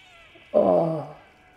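A single close, clear cat meow from the video game Stray, rising quickly and tapering off over about half a second against a quiet background.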